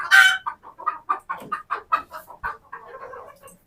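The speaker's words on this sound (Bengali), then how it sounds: "দেখেন কত সুন্দর সুন্দর মোরগ" Roosters on a poultry farm cluck nearby in a quick run of short, separate bursts. It opens with one louder squawk, then the calls continue steadily and fade slightly toward the end.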